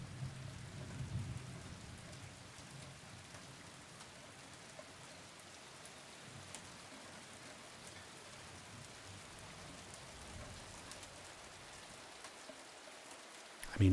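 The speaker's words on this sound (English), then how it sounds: "So a lot of gamers say the rain is terrible in this game." Steady night rain falls with low thunder rumbles in the Silent Hill 2 Remake video game, a soft, even hiss heard quietly and alone.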